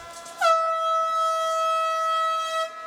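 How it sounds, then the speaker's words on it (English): A lightning warning siren sounds at an outdoor sports field during a women's professional ultimate frisbee championship final: one loud, sustained horn-like tone that begins abruptly and holds steady for over two seconds. "we just got the lightning siren"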